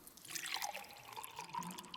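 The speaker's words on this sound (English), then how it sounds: "Pour this wine." Wine is poured onto an altar as an offering at dawn in an ancient Greek theatre, a faint, close trickle and splash of liquid with scattered drips over two seconds.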